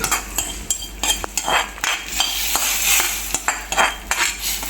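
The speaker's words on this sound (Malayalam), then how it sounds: "അതിലേക്ക് താളിച്ചൊഴിക്കുന്നുണ്ട്" Hot tempering poured into a Kerala-style curry: metal spoon and pan clinks and stirring scrapes, with a hiss of sizzling oil, close and fairly loud.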